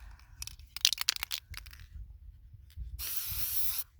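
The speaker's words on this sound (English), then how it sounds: "as I spray." Scattered clicks and rattles, then a single steady hiss of a spray paint can lasting under a second near the end, close and fairly loud.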